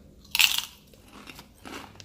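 Spicy crunchy snacks being bitten and chewed up close, with one loud crisp crunch followed by quieter chewing crunches, no talking.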